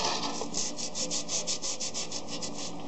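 A rear brake part from a Ford Explorer, soaked in brake cleaner, is scrubbed clean with rapid, rhythmic back-and-forth strokes. The close, even rasping repeats about a dozen times with no talking.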